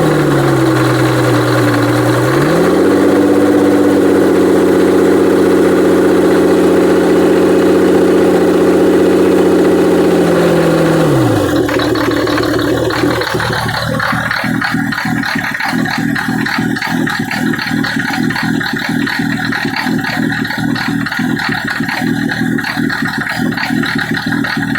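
A 1985 Oldsmobile 98 engine runs after an injector pump replacement, a loud steady drone that shifts pitch early on, then settles into a rougher, pulsing idle with a clear rhythmic knock for the rest.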